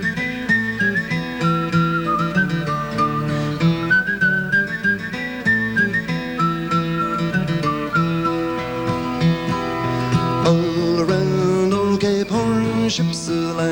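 A man whistles a tune imitating a tin whistle, the bright melody carrying over a full live band accompaniment at a 1979 concert, steady and prominent throughout.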